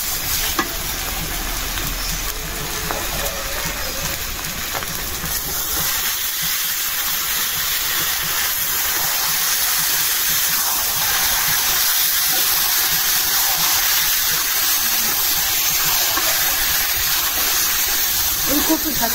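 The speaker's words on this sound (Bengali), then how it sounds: "এখন শাকটা দিয়ে দিচ্ছি।" Taro leaves tipped into a hot pan of fried shrimp and onion set off a loud, steady hissing sizzle that carries on close by with stirring, as someone speaks over it.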